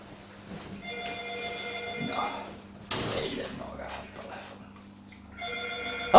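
A telephone bell rings in repeated bursts indoors, loud and close, with a pause between rings and a few thuds and movement in the middle; no one speaks.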